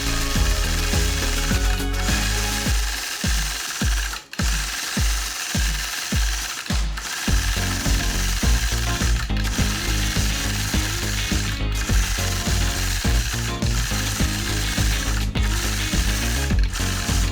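Quilting machine stitching free-motion scallop bumps, a loud steady mechanical whir with rapid rhythmic clatter running throughout, broken by a few brief pauses and clicks.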